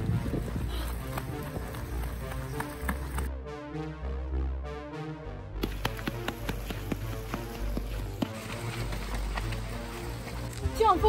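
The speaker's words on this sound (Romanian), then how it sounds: "Plouă" Steady rain patters and hisses across a surface, broken by a brief quieter stretch with rhythmic noise, then the heavy downpour resumes.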